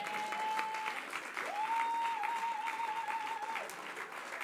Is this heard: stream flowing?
no